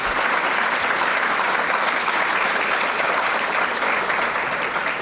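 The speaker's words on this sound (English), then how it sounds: "How about another round of applause for all of these students and these incredible stories?" A large event audience gives students a loud, steady round of applause, dense continuous clapping filling the whole stretch with no speech over it.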